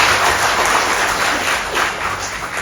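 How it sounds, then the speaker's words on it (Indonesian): A crowd at a pub and bistro launch celebration in Cawang claps for their leader, steady dense applause filling the room throughout, loud and close. "Tepuk tangan untuk pemimpin kita."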